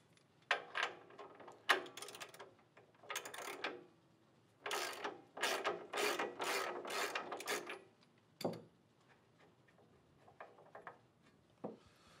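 Brass garden hose fittings being unscrewed from an electric shut-off kit, producing close ratcheting metallic clicks and scraping in irregular bursts with quiet gaps, ending in a few isolated knocks.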